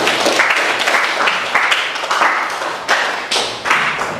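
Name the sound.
applause for the presenting group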